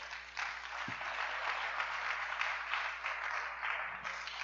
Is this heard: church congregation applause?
yes